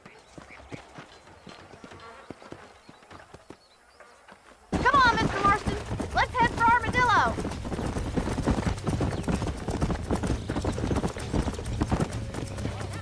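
Horse hooves clip-clopping at a steady trot in the Western video game Red Dead Redemption, kicking in after a quiet opening and continuing under the riders' conversation, with a brief horse whinny early on.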